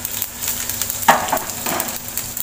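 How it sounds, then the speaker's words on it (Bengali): Dried red chillies, mustard seeds and finely chopped garlic sizzle and crackle in hot oil for a Chhattisgarh rice-flour fara chutney, a close, dense frying hiss with small pops throughout. "তেলটা গরম হয়ে গেছে, আমি এখানে দিয়ে দিচ্ছি 4টে শুকনো লঙ্কা, 1 চামচ সর্ষে, 10-12টা কুচানো রসুন"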